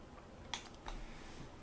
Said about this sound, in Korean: 공사관리 사공고 클릭 클릭 엔터 클릭 클릭입니다.